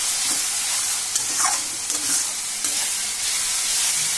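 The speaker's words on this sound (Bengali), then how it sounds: "পেঁয়াজ রসুনটা আগে বাজি লাইলাম" Onion and garlic frying in a pan for a Bangladeshi dried-fish (shutki) dish: a steady, loud sizzle runs throughout, with stirring scrapes and small pops scattered over it, and no talk.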